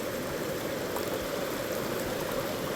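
A river stream in the Smoky Mountains rushes steadily and close by, a dense continuous wash of flowing water with no voices over it.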